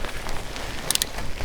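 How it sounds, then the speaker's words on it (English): Rain falls steadily outdoors during a day of riding on a bike, a close, even patter with a few brighter drip ticks and no voices. "It's raining. It's been raining all day."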